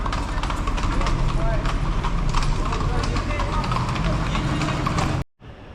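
A carriage horse's hooves clip-clop steadily on a Vienna city street on a hot summer day, close and loud over a busy murmur of voices and traffic, then cut off abruptly at the end.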